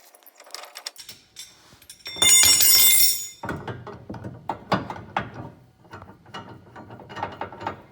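A wrench clicks and ratchets against a MAXX installer tool while tensioning the torsion bar on a 2020 Chevrolet 2500HD, with a burst of loud grinding, then uneven metallic clunks and clicks close by.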